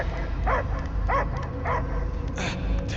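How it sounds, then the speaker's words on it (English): A dog-like creature in Marvel's Guardians of the Galaxy gives a series of about five evenly spaced barks, fairly loud over a low rumbling game background. "I hear only barking."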